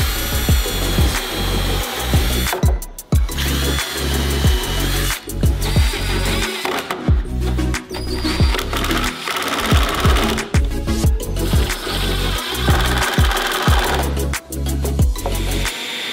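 Screws being driven into a wooden fence on a miter sled, likely with a power drill or driver: repeated whirring bursts with short pauses between them, close and loud, with no talking.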